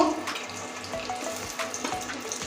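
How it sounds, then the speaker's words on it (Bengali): Cumin seeds and a dry red chilli frying in hot oil for a tempering, giving a steady close sizzle and crackle with small pops scattered throughout and no voice over it. "জিরে ফোড়ন এবার লাল করে ভেজে নিয়েছি"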